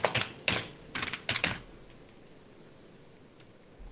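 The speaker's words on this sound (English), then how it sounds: "So if I have to type my SSH password here." Quick bursts of key presses on a computer keyboard as an SSH password is entered, a handful of close clicks in short clusters over the first second and a half, then quiet.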